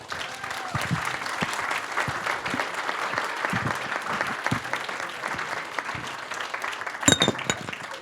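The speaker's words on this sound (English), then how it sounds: "let's give the candidates a round of applause" Audience at a candidate forum for District 2 and District 5 at Hotel Paradox in Santa Cruz applauds the candidates, a sustained, even wash of many clapping hands at moderate volume with a brief louder burst near the end.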